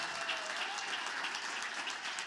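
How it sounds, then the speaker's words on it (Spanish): Sustained applause from a church congregation, steady and dense across the whole stretch, heard alone without talk over it. "Denle ese aplauso fuerte al Señor"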